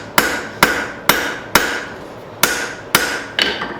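Hammer forging metal to draw out and thin a hook, seven loud, ringing blows on the anvil spaced roughly half a second apart with a short pause midway.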